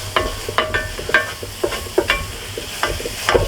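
Garlic hitting a dark roux for shrimp etouffee, with close, repeated sharp sizzles and stirring scrapes about every half second over a low steady frying hiss.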